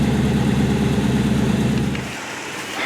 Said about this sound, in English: we want to keep the engine running so we have full battery potential on the winch